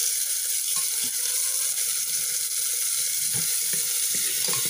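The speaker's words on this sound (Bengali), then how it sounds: "টমেটোটা আমি হালকা করে ভেজে নেব।" Tomatoes frying in oil with onion and chilli for a Bengali moong dal with fish head, giving a steady close hiss of sizzling with a few soft clicks of stirring, and no voices.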